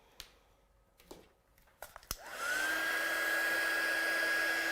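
An electric heat tool blows steadily over a watercolour card with coral-pink paint, starting after a few light taps and clicks and then holding a continuous, fairly loud whir with a steady tone for the rest of the time.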